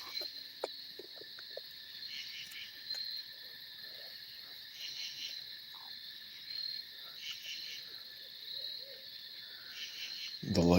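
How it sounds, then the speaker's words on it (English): Owls hooting at night in a Pennsylvania nature reserve, their calls coming faint and somewhat distant over a constant high chorus of crickets and insects, with occasional frog croaks and a brief louder thump at the end. "listening to owls"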